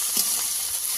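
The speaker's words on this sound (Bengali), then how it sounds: "দিয়ে দেবো আদা বাটা দিয়ে একটু কষিয়ে নিতে হবে।" Ginger paste frying and being stirred in a pan: a short, close hiss of sizzling with a faint scrape of stirring, steady and unaccompanied by voices.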